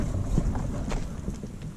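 Steady wind buffeting the microphone with rushing, rumbling noise while riding a scooter through a village, with no voice heard.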